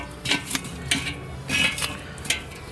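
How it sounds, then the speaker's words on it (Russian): Hot charcoal is raked and spread toward the edges of a grill made from an old boiler, giving a series of close, clinking, scraping knocks. "Распределяю угли."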